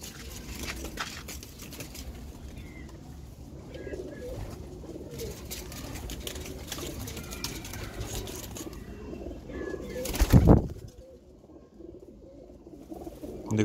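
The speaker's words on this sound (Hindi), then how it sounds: "ज़्यादा कबूतर नहीं है, सिर्फ ये 20 परिंदे हैं" Pigeons coo softly amid steady outdoor background noise, with a brief loud rustle or flutter partway through.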